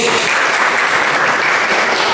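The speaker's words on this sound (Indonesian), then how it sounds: "tepuk tangan dulu" A class of eighth-grade students bursts into applause during an Indonesian-language lesson, a dense, loud and steady clatter of many hands clapping at once, close by, for about two seconds.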